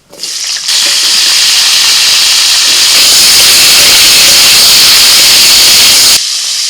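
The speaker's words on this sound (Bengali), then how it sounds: "এবার ফুলকপি ভেজে নিচ্ছি" Cauliflower florets frying in hot oil, giving a loud, steady, broadband hiss of sizzling that starts abruptly, holds for about five seconds and then cuts off near the end, with no voices.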